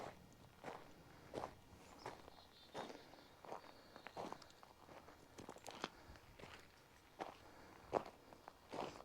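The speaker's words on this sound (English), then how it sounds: "let you guys listen to my footsteps" Footsteps walk through a huge junkyard full of old, rusty cars, each step a crisp, close crunch in a steady walking rhythm that carries on for several seconds, with no talking.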